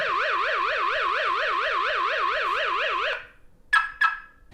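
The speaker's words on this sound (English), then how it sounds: "There's also an alarm built in." The built-in alarm siren of an Aqara G2H Pro home security camera wails in a loud, rapidly oscillating up-and-down tone for about three seconds, then stops and is followed by two short chirping beeps.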